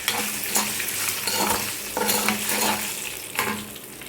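Chana dal and toor dal sautéing in a pan for sundakkai thuvayal, a steady close sizzle of frying with repeated scraping strokes of a spoon stirring the lentils, no voices.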